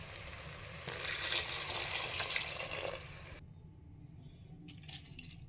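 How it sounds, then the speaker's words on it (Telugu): Water gushes into a pot of vegetable biryani for a couple of seconds, a bright splashing pour that stops abruptly, followed by faint clinks and quiet. "ఇప్పుడు నీళ్ళు పోసుకోవాలి"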